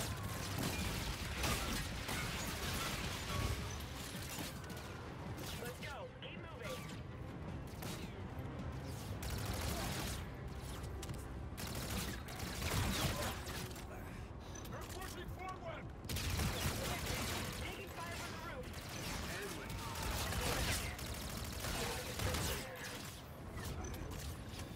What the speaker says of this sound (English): Taking fire from the roof.